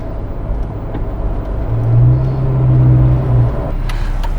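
A Jeep on 37-inch BF Goodrich AT tires in four-high drives a snowy, unsalted road, its steady low engine and tire rumble droning close throughout and swelling slightly midway.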